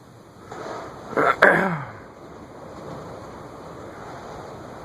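Steady gusty wind roars outdoors, a broad rushing noise that swells briefly with a louder burst near the start before settling into a constant blustery hiss.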